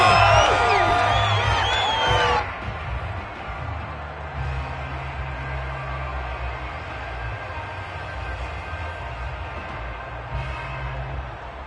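Home crowd in a Madden NFL 22 football game swelling into steady cheering and whooping that carries on under the whole stretch, loudest in a brief opening burst before settling into a broad, continuous roar.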